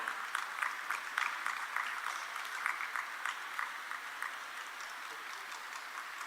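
Audience applause at a UPSC achievers' felicitation ceremony in Bhopal, steady clapping from a crowd that sustains evenly throughout, moderately distant with no voices over it.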